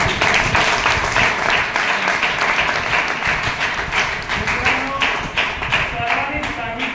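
Sustained applause from an audience at a junior college function, dense steady clapping throughout with a voice faintly audible underneath.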